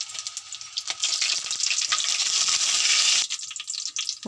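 Cumin, mustard seeds and dried chillies hit hot oil with a loud, steady hiss and crackle of frying. The sizzle swells, then drops suddenly near the end as the tempering settles.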